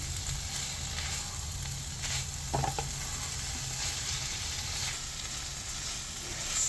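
A paste of ground dried chili, ginger and garlic cooked in oil is stirred into a pan of winged beans, giving a steady close sizzle of frying with scraping spoon strokes and a couple of brief knocks.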